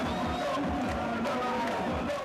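A crowd fills the streets of Gaza celebrating a ceasefire after eleven days of airstrikes, a thick constant roar of cheering and shouting voices that never lets up, near and loud.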